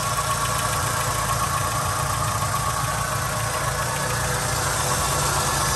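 Small engine of a 1999 Volkswagen Cabrio GLS automatic idles steadily under the open hood, a close, even hum with a faint ticking texture throughout and no voices.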